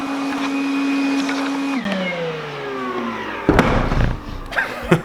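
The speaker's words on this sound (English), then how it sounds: "just showing off my new Makita vacuum." A Makita vacuum runs in a workshop where stone is being carved, giving a loud steady whine that drops in pitch as it winds down, followed by several close knocks and thuds.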